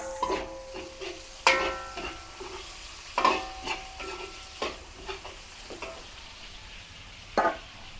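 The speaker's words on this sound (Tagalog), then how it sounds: "Sangkotsahin po natin yung ating karne." Meat sautéed with garlic and onion for a Filipino dish, quiet sizzling in a pan broken by sharp scrapes and clanks of a utensil stirring at irregular intervals, close by.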